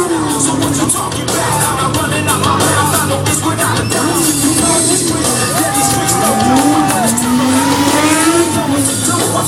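A Honda 600RR motorcycle performs a stunt slide at an outdoor stunt event, its engine loud and revving with rising and falling pitch, tire noise and a crowd cheering and shouting around it.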